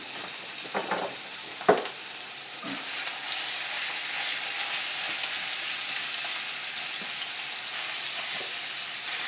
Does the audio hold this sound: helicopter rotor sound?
no